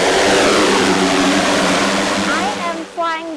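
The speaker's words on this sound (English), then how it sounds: "Flying this drone" A drone flies over a river collecting LiDAR data, its steady whirring propeller drone loud and close throughout, with a voice speaking briefly over it near the end.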